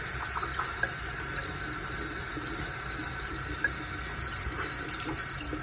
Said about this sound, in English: We're going to try rinsing it here.